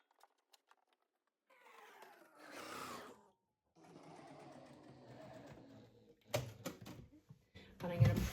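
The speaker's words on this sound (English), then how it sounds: "I'm going to sew this also with the slightly bigger seam allowance." A sewing machine stitches a bag seam in bursts of mechanical whirring separated by pauses, with handling knocks near the end.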